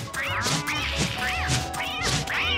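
Video game cat in Don't Starve: Reign of Giants gives four distinct, evenly spaced meows, close and clear over a low background music bed, with no talking.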